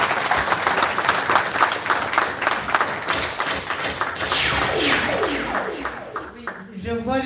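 Audience applause fills the room at the 2023 Victoire Ingabire Prize for Democracy and Peace award ceremony, steady dense clapping that swells and carries on throughout, with voices rising near the end.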